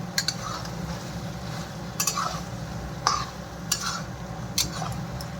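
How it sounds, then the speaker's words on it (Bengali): Mixed vegetables for sukto are sautéed with spices in a pan, with a low steady sizzle broken by several sharp spatula scrapes and clinks against the metal at irregular intervals, no voices. "দিয়ে এখন একটু এই মশলা দিয়ে একটু কষে নেবো ভালো করে"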